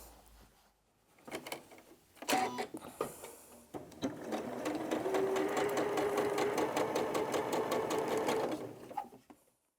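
Domestic sewing machine stitching jelly roll quilt patches together for a nine-patch block, a steady fast rhythmic whir running for several seconds after a few short clunks and handling sounds, fairly close and alone.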